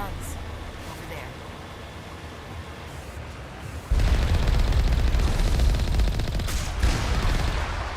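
Gunfire crackles in a dense, continuous fusillade, quieter and distant at first, then jumping abruptly louder and closer partway through, sustained rapid shots with no pauses.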